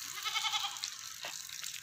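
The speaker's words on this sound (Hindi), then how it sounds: "ये बहुत बड़ी बकरी और बहुत हैवी बकरी है" A very large, heavy goat at a livestock sale lets out a short bleat amid thin background noise, close and fairly quiet.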